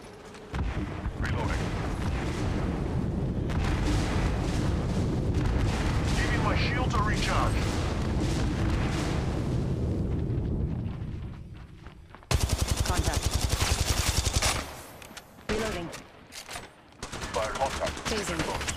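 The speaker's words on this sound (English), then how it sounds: "They're shooting." Heavy gunfire in Apex Legends Mobile, with dense overlapping shots and booming blasts running almost throughout, then a sharper stretch of rapid automatic bursts near the end. Voices may be talking underneath.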